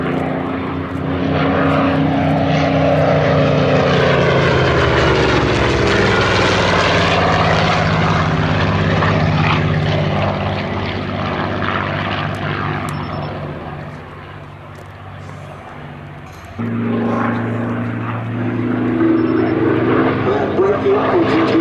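Curtiss P-40F Warhawk and Hawk 75 propeller fighters flying at the Duxford Battle of Britain Airshow 2021, a loud sustained piston-engine drone that rises and falls in pitch as the aircraft pass, with a voice talking over it.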